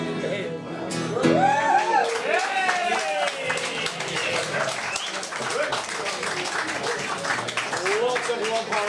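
An audience claps along at a MacGregor's Gathering performance welcoming Donegal, rapid scattered hand clapping running throughout under a singing voice.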